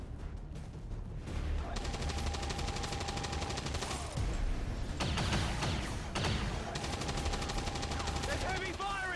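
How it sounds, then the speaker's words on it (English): Gunfire in Long War 2 rattles in sustained rapid bursts, loud and dense, with a few sharper single reports and mechanical clatter scattered through. "There's heavy fire in this zone."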